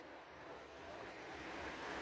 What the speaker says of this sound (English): Show you where the beach is.